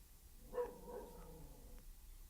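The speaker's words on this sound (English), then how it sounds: "She's barking because the neighbors next door have a cat" A pet dog barks once at a distance indoors, followed by a fainter whine or yip, quiet and brief against a low background hum.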